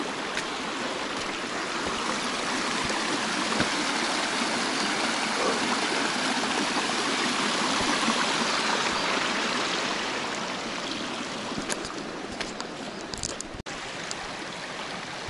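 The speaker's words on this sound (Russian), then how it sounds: "Здесь ручей пошире стал почему-то." Snowmelt water flows steadily in a forest stream, a broad continuous rushing and gurgling heard close and fairly loud for the whole stretch, with only a few faint knocks near the end.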